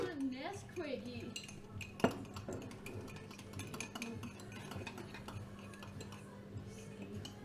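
A spoon clinks against a cup while a spoonful of Nesquik powder goes into a mug cake batter, with scattered faint taps, one sharper clink, and soft scraping under quiet speech.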